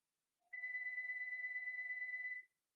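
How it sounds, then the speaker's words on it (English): A phone rings once with a steady electronic tone lasting about two seconds, clear and isolated against silence. "You guys feel free to answer the phone if you want."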